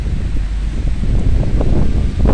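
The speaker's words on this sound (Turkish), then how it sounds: "Çok da rüzgar esiyor." Wind blowing steadily through a cold vegetable garden with low rumbling gusts buffeting the microphone, continuous and fairly loud.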